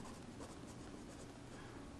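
Marker or chalk writing on a board during a chemistry lesson, a faint continuous scratching close by with no voice over it.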